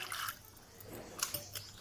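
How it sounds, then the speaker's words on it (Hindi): Tap water runs and splashes while vegetables and potatoes are washed in a kitchen, a soft trickle with brief close splatters, heard alone. "इन्हें हम नल पे साफ़ कर लेंगे कई बार पानी से"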